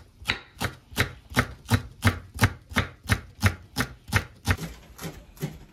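A knife slices an onion on a cutting board while gyoza filling is prepared, about fourteen crisp, evenly spaced cuts in a steady rhythm, close and clear with no talk.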